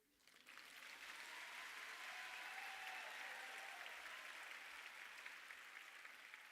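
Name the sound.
applause for guests at a graduation ceremony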